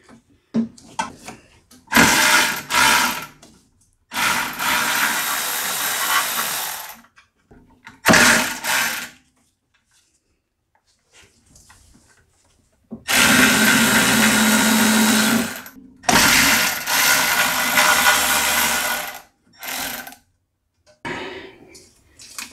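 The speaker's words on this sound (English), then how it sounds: "I'm just going to use my cordless ratchet here" A cordless ratchet removes bolts on a Cub Cadet 221L snow blower, whirring close and loud in several separate bursts of one to three seconds, with short blips and quiet gaps between them.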